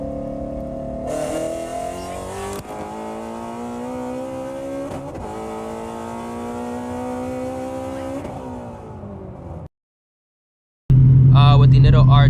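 An 800hp Shelby GT350 on Nitto R2 tires pulls hard at full throttle from third gear, the engine note climbing steadily and loudly for several seconds before cutting off abruptly, followed by silence and then a loud burst of another sound.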